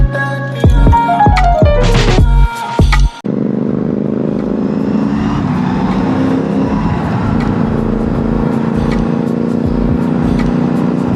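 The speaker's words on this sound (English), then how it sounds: "That was a cop car." A police car passes by on an expressway: a loud, steady road roar builds and sweeps past close by, following a short burst of revving engine tones at the start.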